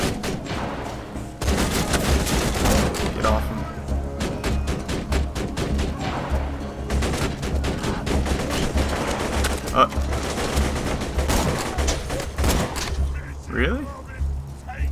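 Sustained gunfire in the video game Borderlands 2, rapid bursts and volleys of shots firing almost continuously and loudly, with a voice talking at times over the shooting.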